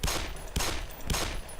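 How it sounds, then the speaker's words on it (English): Gunfire in the video game Black Mesa: three sharp, loud weapon shots spaced about half a second apart, each with a short echoing tail, no talk over them. "I'll go ahead and shoot this guy."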